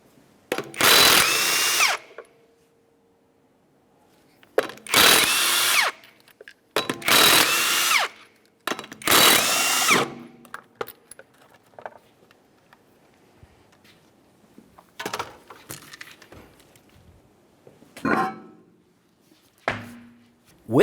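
Power tool removing the 19mm lug nuts from the front wheel of a 1994-1997 Honda Accord, in four loud close bursts of whirring impact, then quieter clicks and rattling handling noises as nuts and hubcap come off.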